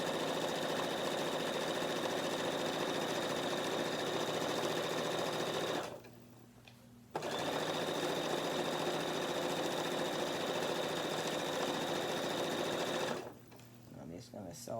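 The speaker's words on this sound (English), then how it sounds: "I'm just going to sew all the way down both sides." A sewing machine stitching down both sides of a tote bag runs in a steady, close whirring drone, stopping briefly twice before starting again.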